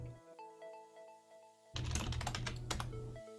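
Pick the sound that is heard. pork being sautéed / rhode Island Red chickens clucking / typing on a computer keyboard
typing on a computer keyboard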